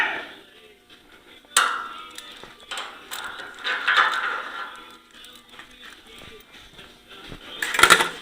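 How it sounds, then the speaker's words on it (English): Metal clamps are loosened and pulled off a welding workpiece, giving scattered ratcheting clicks, clanks and scrapes of varying loudness, with a sharper metallic knock near the start and a burst of clatter at the end. "now get the clamps out of the way and go ahead and get that thing in there"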